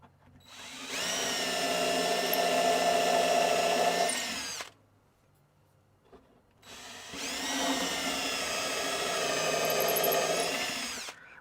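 A power drill drives screws into a wooden test bench in two long, loud whirring runs with a short quiet gap between them.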